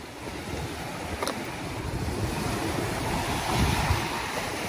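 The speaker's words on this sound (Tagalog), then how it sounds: "Ayan, malakas ang alon" Strong waves roll onto the Manila Bay shore, a continuous rushing surf with swells building and crashing, loud and close, mixed with wind buffeting the microphone and no talking.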